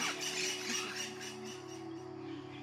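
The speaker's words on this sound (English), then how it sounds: "The forest is overtaken by the Puerto Rican parrot's call, a loud and intriguing pitch impossible to ignore." Puerto Rican parrots call in a forest at sunset, harsh squawking cries at moderate distance over a steady low background hum, fading toward the end.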